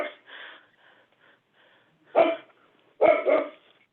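A dog barks in the background of a zoning hearing board meeting held over a call, with several sharp, loud barks near the end after quieter yips and muffled sounds.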